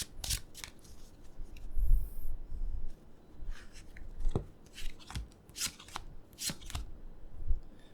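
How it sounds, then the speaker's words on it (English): Close, quiet shuffling of a White Fly Tarot deck: repeated riffling and soft sliding bursts of paper against paper, with a few small taps in between. "Clearly I didn't shuffle it well"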